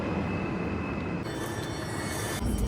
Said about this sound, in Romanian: Gata, a venit și un alt tren.